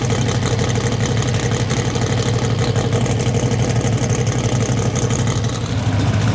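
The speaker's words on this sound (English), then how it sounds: "The power plant he chose was Borowski built 427 cubic inch twin turbocharged LS engine." A Borowski-built 427 cubic inch twin-turbocharged LS engine, set up for gasoline on the street and methanol at the track, idles loud and steady close by, with a deep, lumpy rumble that holds through the whole stretch and no talk over it.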